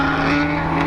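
A Kawasaki Ninja H2R motorcycle cruising on a highway on an early, foggy winter morning gives a loud, steady engine drone with a constant pitch and no break.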